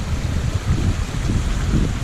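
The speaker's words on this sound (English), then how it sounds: "there's water coming from underneath it. I don't know where it's coming from. It's flowing." A stream flows from beneath rocks on a hike through the Arbuckle Cascades in Oklahoma. The water makes a steady, close, fairly loud rushing wash that stays even throughout, with no talk over it.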